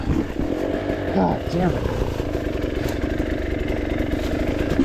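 An enduro dirt bike engine labours up a hard enduro hill climb in second gear, with a loud, steady, gritty drone close to the rider, while a voice briefly cuts in over it.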